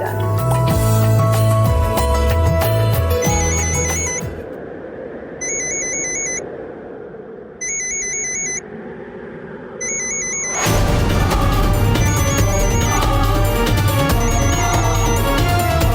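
Mobile phone ringing with an incoming call during a dramatic TV scene, a repeating electronic ringtone melody heard in bursts, first over loud background music, then nearly alone, before the music swells back in.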